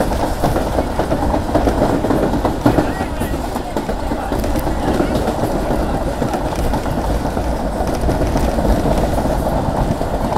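A Pakistan Railway passenger train runs between Panja Sahib and Nankana Sahib, heard from on board as a loud, continuous rumble with rattling wheel noise and faint clatter throughout; no one speaks.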